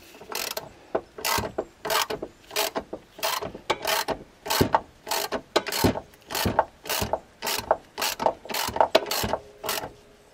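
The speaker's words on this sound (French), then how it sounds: "Et puis après, j'actionne tranquillement avec ma clé de 17." A 17 mm wrench turns a puller screw while removing the timing belt and water pump on a Ford Fiesta IV 1.25 Zetec, giving close, sharp ratchet clicks in a steady run of about two per second.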